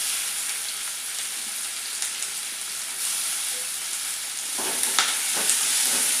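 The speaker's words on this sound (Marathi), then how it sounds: "कांदा टोमॅटो सॉफ्ट होईपर्यंत परतून घ्यायचं" Onion, tomato and curry leaves frying in a pan give a loud, steady hiss of sizzling oil, with a few clinks and scrapes of stirring near the end and no voices.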